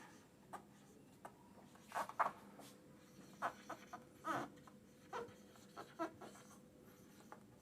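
Writing on a board during a math lesson on set-builder notation: faint, irregular scratchy strokes and light taps, close by, with no talking.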